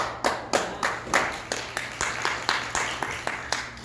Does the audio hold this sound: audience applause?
yes